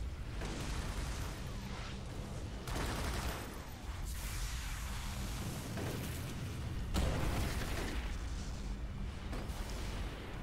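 Grenade explosions in the superhero online game City of Heroes, a run of heavy booms, several loud blasts spread through a steady din of combat noise.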